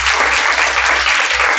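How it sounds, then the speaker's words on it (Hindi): An audience at a coaching institute gives loud applause to honor students who scored well; thick, continuous clapping from a crowd, close and steady, with no talking over it. "उनके लिए एक बार जोरदार तालियां।"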